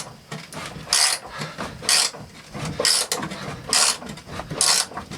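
A hand ratchet wrench works stiff, rusty gas tank bolts on a 1973 Ford F250 Highboy: loud, close bursts of clicking ratchet strokes repeat about once a second, with rubbing metal between strokes.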